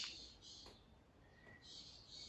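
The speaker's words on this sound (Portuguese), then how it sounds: "É um pássaro isso? É uma maritaca" A maritaca parakeet gives a few faint, shrill, raspy calls in bursts, quiet and somewhat distant.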